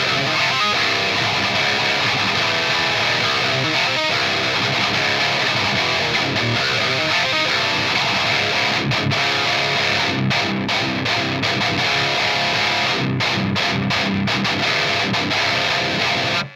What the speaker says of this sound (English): It's an extremely aggressive sounding drive pedal that cuts a lot of the low end out